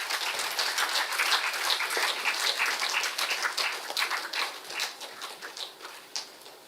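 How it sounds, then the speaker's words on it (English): Audience clapping at a college valedictory function, a brisk patter of individual hand claps from a modest crowd that thins and grows sparser toward the end. "A big round of applause"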